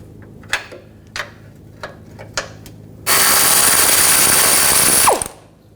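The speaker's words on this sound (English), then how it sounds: "Now using a 21mm wrench and a 21mm socket, we're going to take this nut and bolt out" Wrench and socket working a nut and bolt on the front rearward lower control arm of a 2007-2013 BMW X5: several separate ratcheting clicks, then a loud, steady broadband rush lasting about two seconds before it cuts off.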